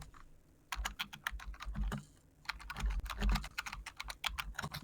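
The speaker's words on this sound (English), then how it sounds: "You are very loud at typing." Rapid, loud clacking on a computer keyboard comes in dense bursts with short pauses, close and clear, with a faint hum underneath.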